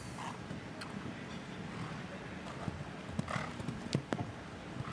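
Horse hooves clip-clopping at a steady pace during show jumping, moderately close, with faint background noise and a few sharper knocks.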